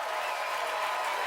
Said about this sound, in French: Est-ce qu'on peut applaudir nos invités de ce soir?